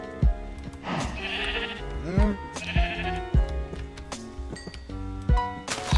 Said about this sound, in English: And let's feed our sheep as well.